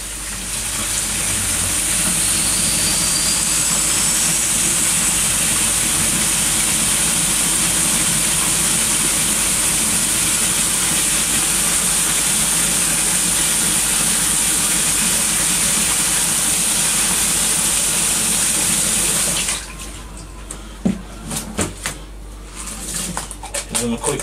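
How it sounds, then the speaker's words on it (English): Cold tap water runs over air rifle pellets as a loud, steady rushing hiss for about nineteen seconds, then cuts off, leaving faint clatter and handling noises. "And put them under the cold tap and just let cold water"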